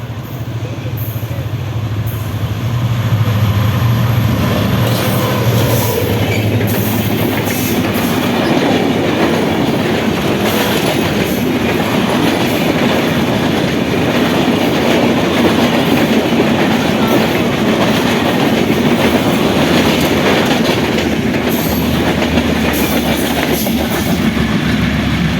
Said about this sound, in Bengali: এই দেখেন ট্রেন এসে উঠছে, খুব স্পিডে আসে কিভাবে ট্রেন